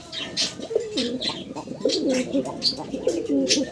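Pigeons at a Bangladeshi seller's loft coo in repeated throaty rolling calls, close and fairly loud, with light chirps and rustling among them.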